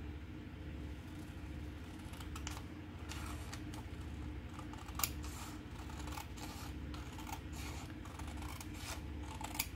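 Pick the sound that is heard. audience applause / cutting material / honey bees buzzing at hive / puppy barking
cutting material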